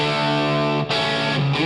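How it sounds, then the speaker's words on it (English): Distorted electric guitar played back through a reverb effect in Pro Tools, sustained chords ringing with a long wash of tail, a brief dip before the chord changes and rings on. "So we're still hearing this reverb coming out, as you might notice."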